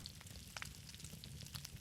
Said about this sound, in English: When just close enough that they start to sizzle.